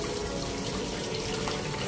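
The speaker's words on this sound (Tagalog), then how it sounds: "subukan po natin buksan yung faucet" Water runs steadily from the faucet of a pedestal sink after its angle valve has been replaced, giving a close, continuous splashing hiss with no talk.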